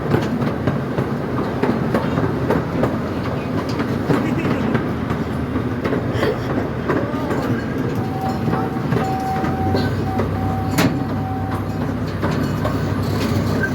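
Steady rumble and clickety-clack of a small zoo train rolling along tracks at the Vancouver Zoo, close and continuous, with a brief tonal whistle partway through.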